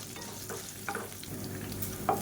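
Green chillies sauté in a frying pan with a steady, close sizzle of oil. Brief scraping stirs break through now and then, and no one speaks.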